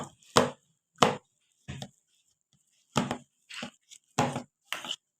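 A spoon beats homemade curd for shrikhand in a bowl, giving about eight separate thick, wet strokes in an uneven rhythm with silent gaps between them.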